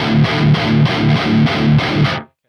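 Heavily distorted electric guitar through cab 3 of the Neural DSP Archetype Gojira amp plugin, playing tight palm-muted chugs in a steady repeated rhythm, loud and alone, cut off abruptly at the end.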